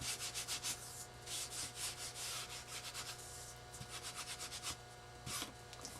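Timber Brown stain being rubbed onto a raised wooden frame by hand, a quiet series of rhythmic scrubbing strokes, close and soft, with brief pauses between bursts.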